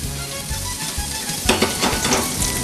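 Chopped olives, pine nuts and sun-dried tomatoes sizzle and crackle in a frying pan, close and steady, with a few scraping stirs of a utensil against the pan toward the end.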